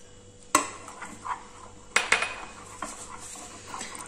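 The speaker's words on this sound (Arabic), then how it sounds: "نخلطها مليح مليح مليح." Lemon tartlet cream being mixed in a bowl, giving sharp clinks and knocks of utensil against the dish at irregular intervals, close and fairly quiet between the strikes.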